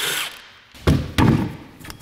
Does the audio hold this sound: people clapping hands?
no